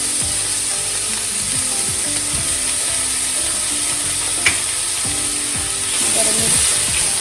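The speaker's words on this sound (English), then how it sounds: "now I'm going to add in half of this butter, half a stick of butter" Half a stick of unsalted butter sizzles steadily in a pan while stuffing is cooked, a constant crackling hiss with occasional scraping and stirring clatter, growing slightly louder near the end.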